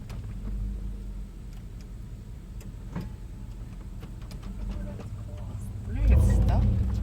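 An off-road vehicle driven in two-wheel drive over rough cliff terrain: a low engine rumble with small ticks and rattles that grows to a heavier rumbling surge near the end, under quiet talk.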